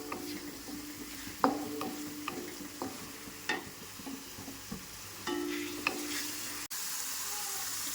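Onion paste frying in a pan for a boti (tripe) fry, with a soft steady sizzle broken by repeated scraping stirs and clacks of a spoon against the pan, close and fairly quiet, no talking.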